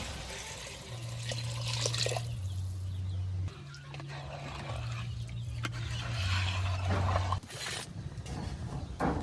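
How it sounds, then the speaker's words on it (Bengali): Measured water poured into a pot of rice for pulao, a continuous close splashing and gushing pour with brief pauses, over a low steady hum. "এখন দিয়ে দিব পরিমাপ মতো পানি"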